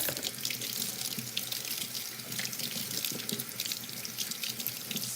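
A kitchen tap runs steadily into a sink while potatoes are scrubbed under it, with a loud continuous stream, splashing and scrubbing close by, and no talking.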